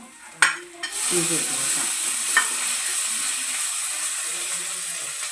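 Ginger sizzles and fries in a pan for dal fry, a steady close hiss that starts after a few sharp clatters and stirring knocks, then holds evenly to the end.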